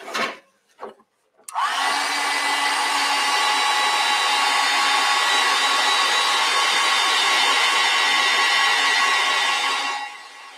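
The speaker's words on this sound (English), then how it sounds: "Now, I'm going to dry that. Take that heat gun out." A heat gun blows steadily for about eight seconds to dry acrylic paint, a loud, even whooshing roar that starts abruptly after a few short knocks and cuts off near the end.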